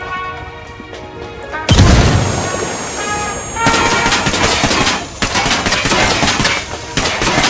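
A frag grenade blast in the Ghost Recon Wildlands video game: one loud, close explosion that is followed by sustained heavy gunfire and rattling debris, with some voices in the background.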